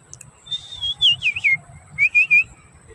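A person whistles an imitation of a magpie robin call, a few bright, warbling phrases with a pause between them, close and clear.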